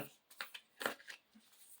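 Tarot cards being shuffled by hand, a few soft papery riffles and slides in uneven bursts, close and quiet with no talk.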